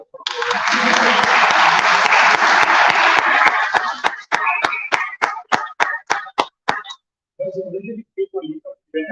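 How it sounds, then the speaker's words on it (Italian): A room of listeners applauds after a cultural talk on the women of the Serenissima. The clapping is dense and loud, then thins into fewer and fewer separate claps, and faint voices follow as it dies away. "Grazie ancora e un altro applauso."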